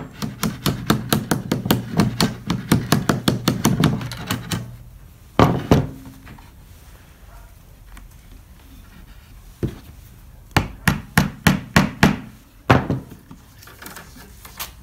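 Quick bursts of hammer taps drive pins into drywall to hold zinc-bordered stained glass, rapid close knocks in rhythmic runs separated by pauses and a few single heavier thuds.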